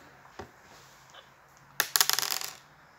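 Dice are thrown in a game of barbut and clatter onto a hard floor, a sharp burst of several quick rattling bounces after a single faint tick, close and fairly loud with no talk.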